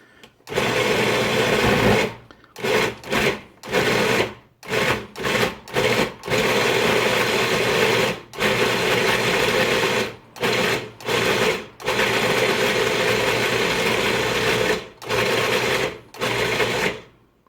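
A food processor whirs loudly in repeated bursts while blending a paste, running steadily for a few seconds, then stopping briefly before starting again, several times over.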